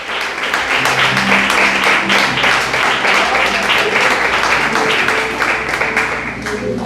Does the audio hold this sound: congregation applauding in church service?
yes